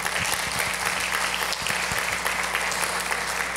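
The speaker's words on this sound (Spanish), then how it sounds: "Dele un aplauso al Señor, hermano" Steady applause from a congregation fills a women's church service, dense and continuous clapping throughout with a few sharper individual claps standing out.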